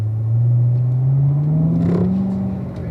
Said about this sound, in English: give it enough throttle to kick out the rear